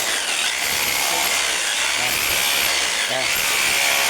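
An electric drill fitted with a chisel runs in a loud, constant grinding rasp close to the microphone.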